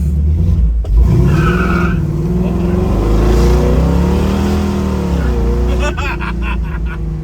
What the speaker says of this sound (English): quarter throttle and it chirps second gear